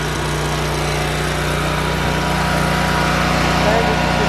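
A new home standby generator running steadily close by, a loud, even engine drone with a constant low hum and mechanical buzz throughout, with no pauses or changes in pitch.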